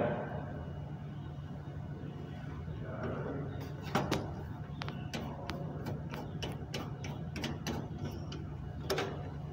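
Screws being driven into a computer case make a run of small metallic clicks and ratcheting ticks over a steady background hum, close and moderately loud.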